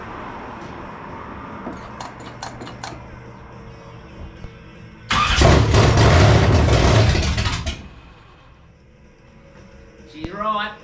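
Car engine fitted with a Comp Cams Mutha Thumpa camshaft cranks and briefly fires, a loud broadband roar lasting about three seconds before dying out, with quieter talk and clinks around it.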